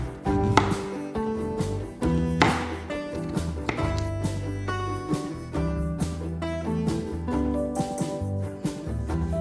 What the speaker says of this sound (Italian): Prendiamo adesso 1 chilo di zucca. La sbucciamo e la tagliamo a tubetti.